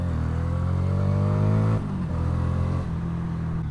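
Lexmoto Vendetta 250cc motorcycle engine running loud and close, a steady idle that rises in a brief rev before dropping back to a lower, even tick-over, with no talk.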